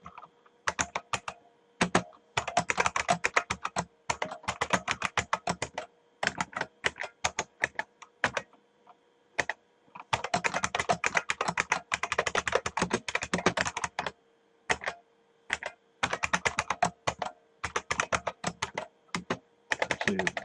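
Steady typing of Python code on a computer keyboard, with rapid key clatter in dense bursts separated by short pauses, close and clear with no talking.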